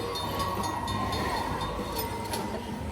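Train sound effect from a high-limit Buffalo Luxury Line slot machine game, a steady rumbling, rolling rail noise that holds at even loudness throughout with no voices.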